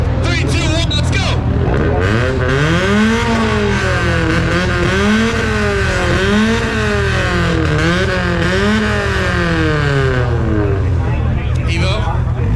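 A Honda race car launching at a drag race, its engine screaming loud and close through repeated rising and falling shifts over a dozen seconds, with crowd noise and voices around it.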